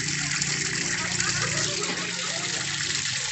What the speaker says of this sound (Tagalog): So ayan, lagyan na natin ng tubig.